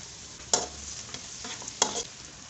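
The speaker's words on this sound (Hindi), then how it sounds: "2 से 3 मिनट इसे फ्राई करूँगी।" Green onion and garlic frying in hot mustard oil, a steady close sizzle with two sharper bursts of crackle as the pan is stirred, and no talking.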